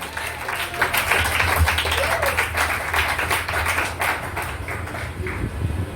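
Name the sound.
congregation applauding to acclaim Jesus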